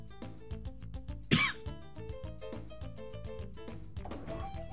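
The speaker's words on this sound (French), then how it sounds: "j'ai que de tousser" A person coughs and clears their throat once, sharply and close, over steady background music from a Pokemon Colosseum game.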